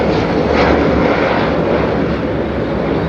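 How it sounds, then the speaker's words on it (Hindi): A helicopter circles over a mountain village near Guptkashi, giving a loud, continuous rotor-and-engine drone that holds steady throughout with no voices. "लो जी हेलीकॉप्टर का एक और चक्कर लग गया"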